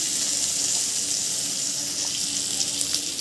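Ginger-garlic paste and turmeric powder sizzle in a hot pan for an ilish fish curry, a steady close hiss of frying with no talk over it.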